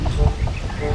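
Clucking chickens at a gamefarm, a few short calls close by over a low steady background.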